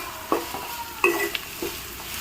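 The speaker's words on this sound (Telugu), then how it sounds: "ఇప్పుడు ఈ ఉల్లిపాయ ముక్కలు పచ్చిమిరపకాయ ముక్కలు బ్రౌన్ కలర్లో వచ్చేంత వరకు వేయించుకోవాలి" Onion and green chili pieces fry in a pan for a coconut and cluster-bean curry, a soft sizzle broken by a few distinct scrapes and stirs of a spoon, close and fairly loud with no voices.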